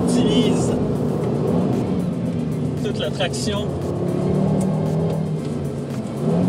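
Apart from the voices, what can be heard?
Audi RS 3 engine drifting on a race circuit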